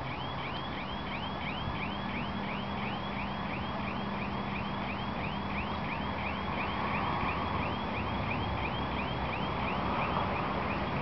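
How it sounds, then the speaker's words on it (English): A car alarm sounds continuously near a cathedral, its rapid repeating electronic warble steady and fairly loud for the whole stretch over a dense background hum. "What's with that alarm? It's been going on since we came here."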